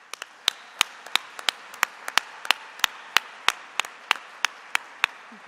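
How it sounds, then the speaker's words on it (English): At an awards presentation honoring local law professionals, sharp, separate hand claps ring out in a steady rhythm, fairly close, with no voices over them. "Please join me in a round of applause for Indy's best and brightest law honorees."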